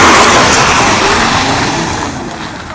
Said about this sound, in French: Ouh, la voiture à Alexis.